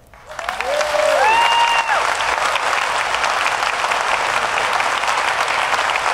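Audience at the DEF CON 20 hacking conference breaking into loud, sustained applause welcoming General Alexander, rising quickly and holding steady with a few whoops near the start.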